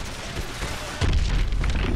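Missile strikes on the hard points of a hydroelectric dam in Call of Duty: Advanced Warfare, with a loud, deep boom landing at the halfway mark and rolling on over a steady rushing backdrop.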